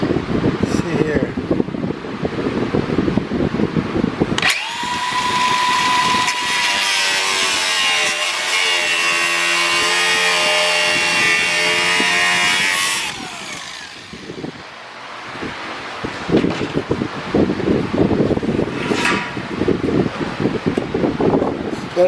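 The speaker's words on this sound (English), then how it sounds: "Now we'll cut this with the cutoff wheel." A cutoff wheel cuts into a metal business sign, a loud sustained grinding whine with a high ringing tone that runs for several seconds and then stops, preceded and followed by quieter handling noise.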